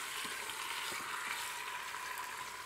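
Beef and its juices stirred through curry paste in a pot for a massaman curry, a steady close sizzling hiss with faint scraping stir strokes, no talk.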